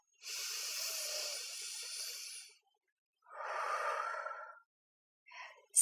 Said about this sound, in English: let's just take a deep breath to close today